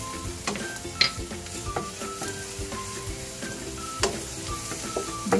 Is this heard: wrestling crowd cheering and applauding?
no